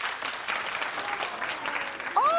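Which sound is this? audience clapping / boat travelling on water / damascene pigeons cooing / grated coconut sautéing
audience clapping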